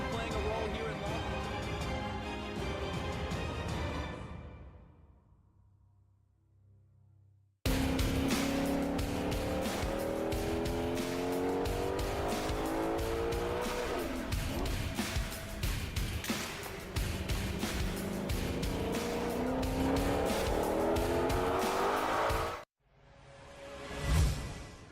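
Formula Drift competition car in Long Beach knockout qualifying, engine roaring and tires squealing loudly in a long sustained drift, with a shorter burst of engine noise earlier and a rising whoosh at the end.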